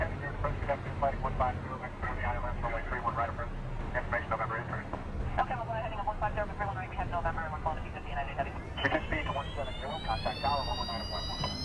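A light aircraft flying with the throttle at idle as it slows toward a stall: a steady low engine drone under continuous talking, ending with a rising electronic warning tone.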